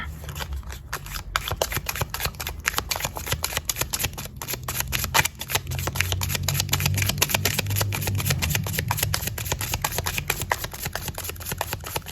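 Tarot cards being shuffled in a quick, steady riffle of dense crisp flicks that runs close and continuous throughout, with a low background hum beneath and no talking.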